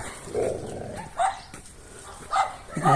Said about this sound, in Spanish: Me tiene nervioso el perro del vecino.